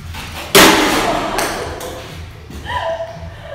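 A heavy hammer smashes objects in a smash room in Beijing with one loud crashing impact. A lighter knock follows, then fainter clinks and a brief ringing tone as debris settles.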